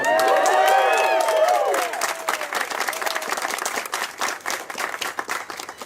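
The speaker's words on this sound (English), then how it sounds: "Let's give him a round of applause." A crowd claps steadily at a Cleveland mayoral campaign endorsement event, loud at first with some cheering over it, then settling into continued applause that gradually thins.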